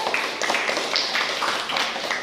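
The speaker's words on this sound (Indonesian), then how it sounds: "Ya, tepuk tangan buat semuanya." Students in a classroom applaud their classmates, a short spell of light, scattered hand clapping at moderate distance.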